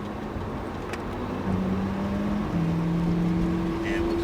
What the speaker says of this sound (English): And release, steady throttle past the green.